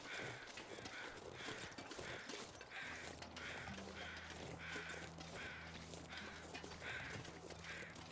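A flock of crows caws repeatedly in The Long Dark video game, rhythmic harsh calls roughly every half second, over a low rumbling backdrop and soft ambient wind.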